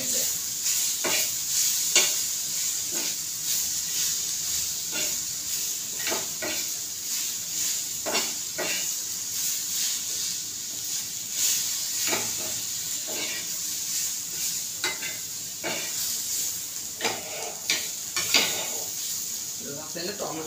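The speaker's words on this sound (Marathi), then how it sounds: "चांगला टोमॅटो मऊ होईपर्यंत आपल्याला थोडंसं त्याला परतायचं आहे." Tomato stir-fried in a pan for misal, a constant soft sizzle punctuated by regular scraping and clinking strokes of a spatula against the pan, close and moderately loud, no talk.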